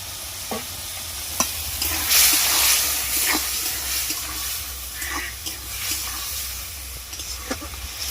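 Mushrooms sizzle and hiss in a pan of spiced oil while a spoon stirs and scrapes now and then, with a bubbling, wet crackle throughout.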